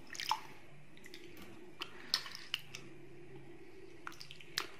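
Hands washed with plain water and no soap, giving faint wet squishes and scattered drips up close against a quiet background, with no talking.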